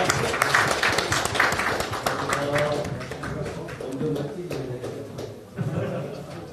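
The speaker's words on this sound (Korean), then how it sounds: "큰 박수 부탁드립니다" Audience applause at a Korean political press conference at the Gyeongbuk provincial office, dense claps that thin out over several seconds while voices talk over them.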